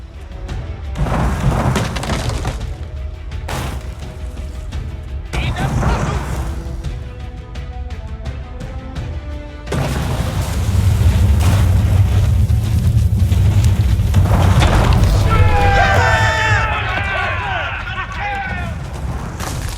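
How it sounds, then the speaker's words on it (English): Enemy stables being wrecked in Age of Empires 4, with cracking wood, crashes and rumbling collapse layered over game music and a narrating voice. "The invaders' cavalry post was destroyed"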